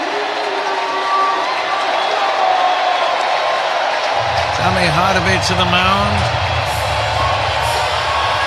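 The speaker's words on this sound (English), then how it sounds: "Extremely loud and enthusiastic crowd at American Family Field" A loud baseball crowd at American Family Field roars and cheers continuously during a 2025 MLB playoff game between the Cubs and Brewers, while an announcer talks over the noise.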